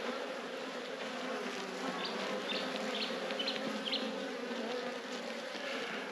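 Honey bees buzz continuously around an open beehive, a close, steady droning swarm with a few sharper individual wingbeats passing by, and no voices.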